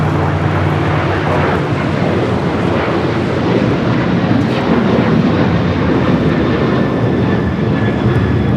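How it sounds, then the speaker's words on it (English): American Airlines Boeing 737-800 taking off from LAX, a loud, sustained broadband jet roar with an engine whine, heard outdoors at close range. "That is American Airlines 1380 taking off to Chicago on the 737-800."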